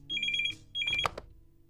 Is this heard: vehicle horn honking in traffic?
no